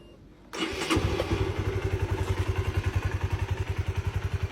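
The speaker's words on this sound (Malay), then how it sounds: "Jom kita dengar bunyi engine." A 2019 Honda RS150R V1 motorcycle with a standard engine starts up, then settles into a close, even idle with a quick, regular pulsing putter.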